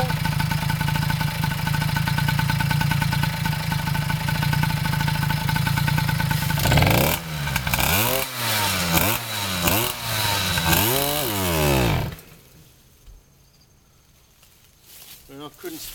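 Motorcycle fitted with an HD Lightning ignition, running loud and close: a steady rough idle, then a series of sharp rising and falling revs, before it cuts back to near quiet.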